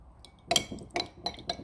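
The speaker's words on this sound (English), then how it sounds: "I'll give it a little bit of a stir around." A spoon clinks against the inside of a cup of tea several times in a quick, uneven rhythm, light and close, with no voices.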